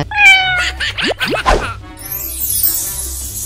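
A cartoonish video game cat lets out a few loud, close meows with rising and falling pitch, followed by a brief scratchy whoosh.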